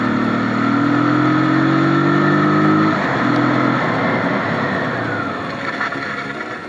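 A motorcycle braking hard without manual ABS, its engine note loud and close as it drops in pitch and fades down over several seconds as the bike slows.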